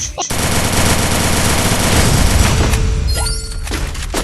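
Sustained, loud automatic gunfire in the Free Fire video game rattles continuously at close range while a player goes for a headshot, with a faint tone and a brief voice near the end.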